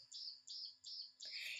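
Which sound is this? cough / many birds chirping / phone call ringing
many birds chirping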